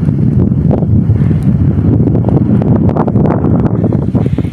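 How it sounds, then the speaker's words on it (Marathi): Strong wind gusting steadily across an open plateau in the Konkan countryside, a loud continuous roar of buffeting and rumble close to the microphone with no speech. "एवढी हवा सुटली की बापरे"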